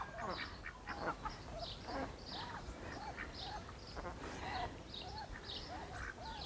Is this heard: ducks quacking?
yes